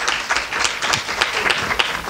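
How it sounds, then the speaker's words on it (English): A room of parents applauds children's class presentations at a school feedback session, brisk uneven clapping from a modest crowd, close and fairly loud, lasting about two seconds with no talk over it. "we should give a big hand of applause to them."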